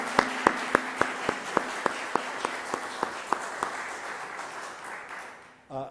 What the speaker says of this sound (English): we give all of our candidates a big round of applause for taking their time?